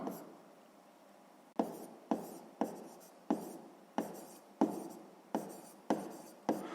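A maths solution being written out by hand: a run of about nine quick, crisp pen strokes on paper in an uneven rhythm, close up and fairly quiet.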